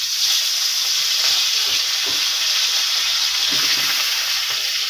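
Potato pieces fry in a small amount of oil in a pan, giving a steady close sizzle and hiss with occasional soft scraping from stirring, and no talk over it.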